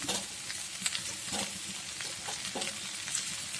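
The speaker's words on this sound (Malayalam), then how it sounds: "നമ്മളിനി അതിലേക്ക് മുരിങ്ങക്കായ, വഴുതനങ്ങ, അമരക്കായ ഇത്രയും ഇട്ടു" Drumstick, brinjal and broad beans sizzle in oil in a pan for sarvani theeyal, a steady close crackle with a few soft stirring knocks and no talk.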